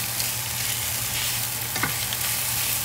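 Italian sausage goes into a pan of onions already cooking, giving a steady close frying sizzle with stirring, a low hum underneath and one brief clatter near the middle.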